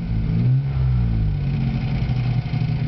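Geo car engine at full operating temperature revved a couple of times, rising to a loud swell and then settling back toward a steady idle drone, with no speech.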